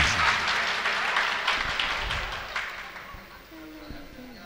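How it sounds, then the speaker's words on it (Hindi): Loud applause from the audience at a mushaira poetry gathering, a thick wash of many hands clapping that slowly fades, with a voice speaking briefly near the end. "एक बार जोरदार तालियां बजा के मुझे इजाजत दीजिए।"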